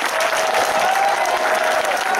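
An audience at a fan convention breaks into dense, loud applause, a steady wash of clapping from the crowd.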